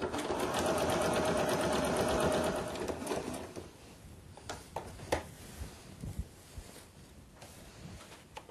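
A domestic sewing machine stitches a fabric seam on a pillowcase, a steady close whir for the first few seconds that stops, leaving quiet handling clicks and taps.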